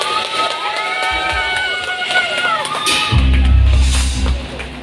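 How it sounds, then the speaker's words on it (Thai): An audience at a birthday meet-up claps and cheers, a loud crowd swell with whoops and shouts, joined by a deep musical tone toward the end. "ขอเสียงปรบมือดังๆ"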